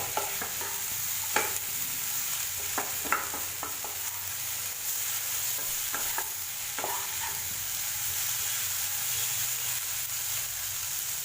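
Potatoes, vegetables and spices stir-fried in oil for a potato and peas curry, with a steady sizzle under repeated spoon scrapes and stirring clatters at close range.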